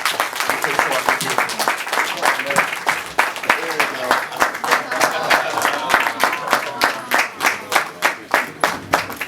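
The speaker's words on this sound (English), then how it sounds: "So another round of applause" A crowd at a boxing press event applauds in a dense, rhythmic round of clapping with some cheering, loud and sustained throughout, while a voice speaks over it.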